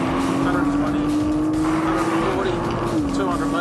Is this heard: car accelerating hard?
yes